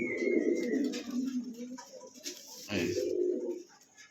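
Male fancy pigeon cooing up close in a series of soft, throaty coos, with a couple of brief higher chirps from other birds and a short burst of noise partway through.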